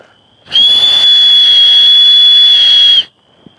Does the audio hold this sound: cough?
no